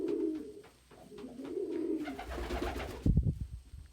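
Pet pigeons coo at close range indoors, a low rolling call early on followed by rustling and a short louder burst of movement near the end.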